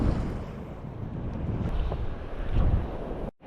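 Steady wind buffeting the microphone at the shore during high tide, a continuous low rumble with gusts, ending abruptly.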